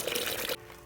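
Water is poured into a bucket being prepared for aquarium guppies, a brief soft splashing pour that stops abruptly after about half a second, quiet and close.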